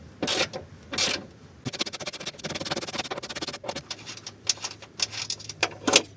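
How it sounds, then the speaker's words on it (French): A small ratchet works a seized bolt on a Peugeot 206 suspension arm, giving rapid metallic clicking in bursts with pauses and a few louder clanks, close and alone. "je vais attaquer ça au petit cliquet"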